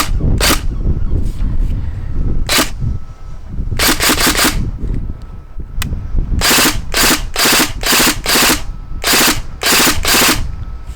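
A Tokyo Marui NGRS MP5A5 airsoft gun dry fires in loud, sharp bursts of mechanical clacks, single shots and short rapid strings spaced across the stretch, close by with no talk.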